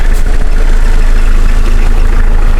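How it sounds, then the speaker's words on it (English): A Toyota Dyna cab-over truck engine idles loudly and steadily, a dense continuous rumble filling the whole stretch with no voices. "In case you thought this came without an engine, it's really noisy."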